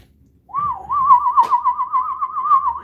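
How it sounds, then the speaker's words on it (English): A person whistles a single sustained, wavering tone with a steady vibrato-like warble, close and fairly loud, after a brief quiet start; a soft breathy burst cuts in partway through. "I can't really whistle that well to begin with"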